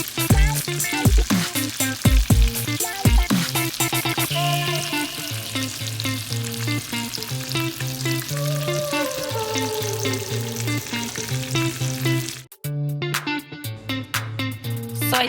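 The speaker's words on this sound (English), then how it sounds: "I'm gonna let you guys finish listening to this sizzle" Salmon sizzles and crackles in a hot frying pan, a continuous close hiss with occasional clattering, briefly dropping out before resuming.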